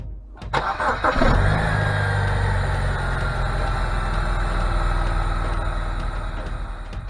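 A BMW E90 car engine cranks and catches, then settles into a loud, steady idle close by that hums evenly to the end, after a belt tensioner and V-belt replacement.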